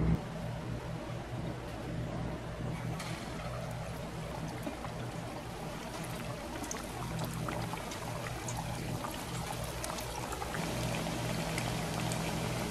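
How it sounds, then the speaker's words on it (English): Chickpea (channa) patties fry in hot oil on a stove, giving a continuous broadband sizzle and crackle that holds steady for several seconds with no voices. "we're going to put them to fry"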